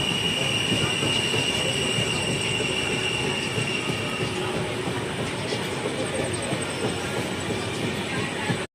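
The Shalimar to Puri Superfast Express crosses the Kolaghat bridge with a loud, continuous rumble of wheels on rails and a thin, steady squeal above it, unbroken until a sudden cut at the end.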